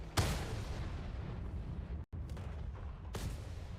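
A French tank's main gun fires at an enemy turret in a video game: a sharp, heavy blast opens, a second shot follows near the end, and a steady engine rumble fills the gaps.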